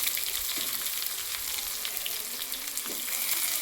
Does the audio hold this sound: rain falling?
no